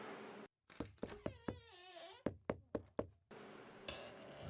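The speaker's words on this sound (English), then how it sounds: "Knock, knock." Knocking on a door: several sharp knocks in two quick groups, loud and close, with a brief tonal moan between them and no talk.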